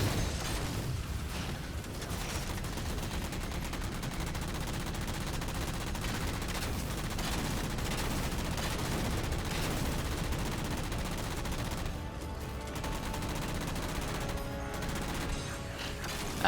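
Repeated bursts of heavy gunfire from the Mantis mech's main gun in Halo Spartan Ops, a dense, continuous barrage of shots with mechanical clatter, loud and sustained across the whole stretch.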